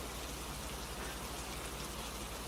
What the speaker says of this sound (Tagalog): kahit na halos hindi na makita ang labas dahil sa lakas ng ulan